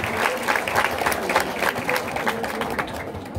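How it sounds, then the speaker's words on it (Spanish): A school audience applauds steadily for a teacher at an opening-of-the-school-year ceremony, the clapping dense and continuous throughout. "Fuertes aplausos para la maestra."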